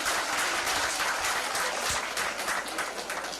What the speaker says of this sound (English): Can we have a round of applause for the Kolu team,